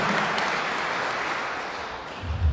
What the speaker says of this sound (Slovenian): najprej hvala za ta aplavz